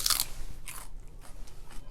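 Crunchy superfood being chewed up close, a loud crisp crunch at the start followed by a few softer crunching bites, with no voices.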